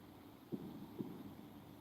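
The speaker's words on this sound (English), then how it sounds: "That banging, I heard that. It's fireworks." Distant fireworks at a former prisoner-of-war camp, two faint muffled bangs about half a second apart against a quiet low rumble.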